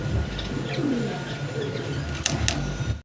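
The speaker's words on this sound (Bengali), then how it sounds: "এখানে আছে সিঙ্গেল 4 পিস কবুতর" Fancy pigeons in a shop coo softly in low, rolling tones against a steady background hum, with a couple of sharp clicks near the end.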